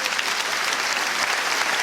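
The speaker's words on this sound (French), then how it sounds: "on peut l'applaudir" Steady audience applause in a theatre during a French comedy show, a dense, even wash of many hands clapping close by without any voices.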